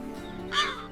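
A single crow gives one short, harsh caw, close and clear, over a faint steady background.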